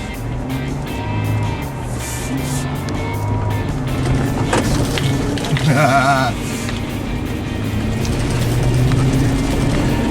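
A vehicle pulls away in low gear with the rear end locked on Oklahoma sand dunes, a steady close engine drone rising slightly in the middle as it drives off, with faint higher whines over the rumble.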